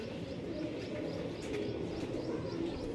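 Pigeons cooing at a pigeon farm in India, soft repeated low coos mixed with occasional chirps over a steady background hum, fairly quiet and with no one talking.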